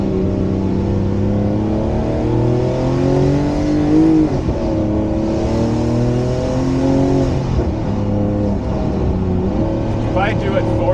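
A Fenyr Supersport hypercar drives hard up a mountain road, its engine droning loudly and rising through the gears in shifting harmonic tones, with people talking over the engine inside the cabin.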